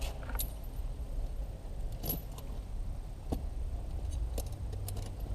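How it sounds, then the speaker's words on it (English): A military tire chain is handled and its folding clasp fastened, heard as sparse metallic clinks and jangles close by over a constant low outdoor rumble. "you can take the other end of the side chain and connect it with the folding clasp."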